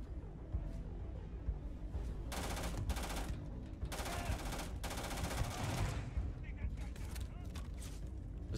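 Rapid automatic weapon fire in the sci-fi game Starfield, several loud sustained bursts against a dense, rumbling background.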